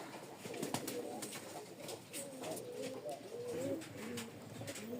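Satin pigeons coo steadily and close by, a pair producing overlapping throaty calls with repeated soft rolling phrases and no talk over them.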